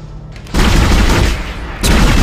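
Loud, dense gunfire fills a shooting gallery in the Dead Space video game, starting after a quiet half-second and rolling on as a sustained barrage, with a fresh surge of shots near the end.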